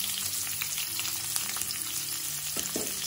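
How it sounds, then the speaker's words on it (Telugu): Sliced onions drop into hot oil and fry with a dense, continuous crackling sizzle up close, joined near the end by a couple of brief clatters from a pan or utensil. "ఇప్పుడు ఆయిల్ వేడయ్యాక ఈ ఉల్లిపాయలను వేసుకోవాలి"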